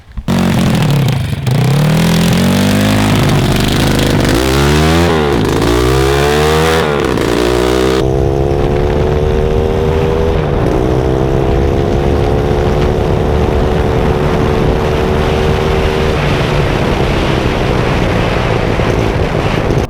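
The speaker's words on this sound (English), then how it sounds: "Ike is here, and he's ready to ride the ATV for the first time since I did the gear change on it." A 140cc mini ATV with an open header revving loudly nearby, the raw engine climbing and dropping through several sharp throttle bursts before settling into a sustained, buzzing drone.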